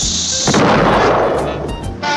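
A cartoon cannon in a Pink Panther short fires with one loud, booming blast that rolls out into a rumbling tail, close and alone.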